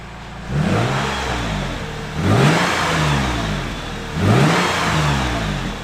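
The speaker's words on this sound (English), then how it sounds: "give me some revs to see how this thing sounds" A car engine revs up three times in a row, each burst rising in pitch then falling back toward idle, loud and close.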